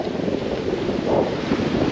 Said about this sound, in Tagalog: Kita nyo naman sobrang hangin.